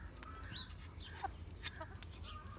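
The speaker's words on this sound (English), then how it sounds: "Chicken, get out of here." A chicken outdoors gives several faint, scattered clucks and short squawks against a quiet background hum.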